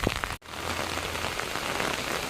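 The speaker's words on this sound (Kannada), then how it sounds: "ನೋಡಿ ಮಳೆ ಸ್ಟಾರ್ಟ್ ಆಯ್ತು" Rain begins falling outdoors where grass is being cut, a dense, close patter of drops on surfaces that continues steadily after a momentary dropout near the start.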